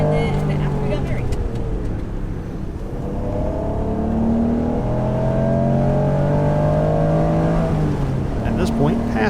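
A Honda NSX runs a fast lap of the Nürburgring Nordschleife, heard from inside. The engine note climbs and falls through the gears in long revving sweeps and stays loud and continuous, with a voice talking over it.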